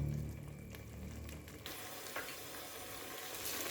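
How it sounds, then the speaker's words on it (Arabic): Chopped tomato and onion fry in a pan as a base for lentils, producing a soft, continuous sizzle that stays fairly faint throughout, with no talking. "دابا اخوتي غادي نخلي هاد المطيشه تقلى مع هاد البصله"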